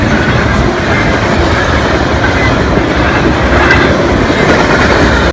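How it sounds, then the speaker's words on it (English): A train passes on a rural railway in Nebraska or Colorado, loud and close, its steady rumble and clattering wheels filling the whole stretch without pause. "For example, there was a train."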